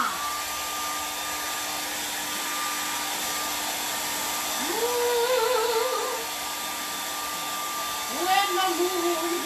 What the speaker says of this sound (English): you're going to grab your designated hair dryer. Okay? You're going to come in and you're going to dry off this stuff